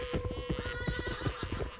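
Horses in a desert scene whinny loudly over a rapid, uneven clatter of hooves, a staged radio drama effect heard up close with no voices.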